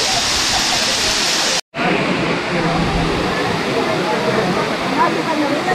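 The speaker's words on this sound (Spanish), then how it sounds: "Y ya disfrutar un rato la cascada" A loud, steady roar of falling water fills the scene continuously, broken only by a split-second cut near the start.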